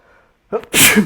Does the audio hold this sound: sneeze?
yes